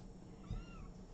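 A young kitten gives a single short, faint meow over a quiet background.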